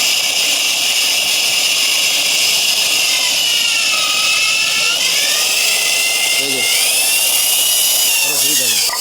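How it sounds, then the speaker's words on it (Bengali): A hand-held core cutting machine boring a hole through a wall, a loud continuous high-pitched grinding whine at close range that shifts pitch slightly as the cut progresses, with someone talking underneath. "মেশিনটা দিয়ে কিভাবে সরাসরি ওয়ালটা কেটে নেওয়া হয় দেখেন এই যে প্রথম আমরা আস্তে আস্তে শুরু করতেছি"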